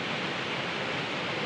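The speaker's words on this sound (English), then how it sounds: "The water is almost overpowering," The lower falls of Wallace Falls roar in a constant, dense rush of water, loud and broadband with no pauses and no voices.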